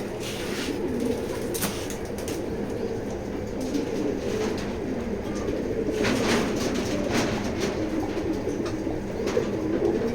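Racing pigeons, a pair of good-quality birds offered for sale, coo softly against a steady low background rumble; the cooing is faint and continuous rather than distinct calls.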